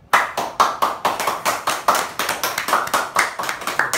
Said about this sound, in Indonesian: Oke, kita tepukan buat PT Sakti Pak.